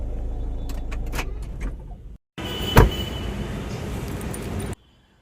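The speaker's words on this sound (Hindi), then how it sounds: "गाड़ी को हम यहाँ पार्क करते हैं" A car pulls into an office parking spot with a steady engine rumble, then a sharp door thunk and a short stretch of cabin noise before everything cuts to near silence.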